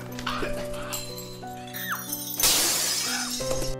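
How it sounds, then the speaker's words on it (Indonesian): Glass objects crashing to the floor one after another in a house, a loud bright shatter of breaking glass near the middle with scattered tinkling pieces, mixed with animal-like cries and tonal sounds from the horror film. "Satu persatu barang dari kaca di sana mulai berjatuhan."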